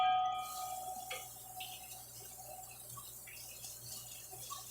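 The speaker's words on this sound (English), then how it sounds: "so we're going to rinse the eggplant a little bit." Water runs from a kitchen tap as eggplant is rinsed under it, a steady soft flow with faint dripping and splashes, fairly quiet and with no talking.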